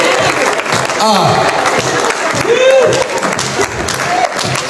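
A church congregation applauding and cheering, a steady wash of clapping with excited voices and shouts rising over it throughout.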